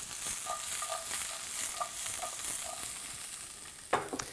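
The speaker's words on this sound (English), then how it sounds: "For our purposes, we're sauteing over very high heat." Bell peppers and other vegetables sauté in a wok over very high heat, giving a steady, close sizzle with light clinks and scrapes as they are stirred.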